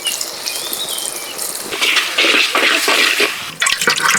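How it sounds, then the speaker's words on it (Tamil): Dissolved tamarind water is strained for a village-style fish gravy, giving a close, steady gush and splash of pouring liquid that grows louder partway through, with no talking. "நம்ம மீன் குழம்புக்கு புளியை கரைச்சி வடிகட்டி எடுத்துக்கிறோம்"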